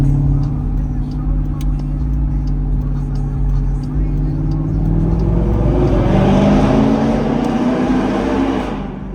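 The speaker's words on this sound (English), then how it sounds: "this idle like shakes the car." Loud, steady rumble of a cammed Jeep 5.7 engine idling roughly inside the vehicle, a deep lopey drone with a slight rise in revs partway through.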